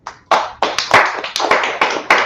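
A congregation at a Wednesday law class claps in a quick, loud, irregular burst of close hand claps lasting about two seconds.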